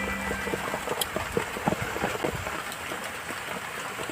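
Steady rain falls around a small rural rest house with planted fruit trees and vegetables, a dense, even hiss with scattered close drips and taps on surfaces, continuing without talk.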